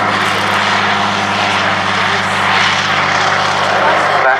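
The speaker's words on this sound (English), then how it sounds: "That courtesy of its Armstrong Siddeley Cheetah engines." An Avro Anson twin-engine propeller aircraft with Armstrong Siddeley Cheetah radial engines climbs away at a Duxford airshow, giving a steady, loud, throbbing drone with a rough pulsing beat that fills the whole stretch.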